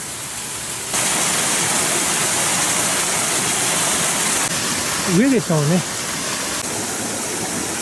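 A mountain river rushes in a continuous broadband roar at a crossing on a hiking trail near Gongen-yama in Ōtake, close and steady, with a short spoken phrase partway through.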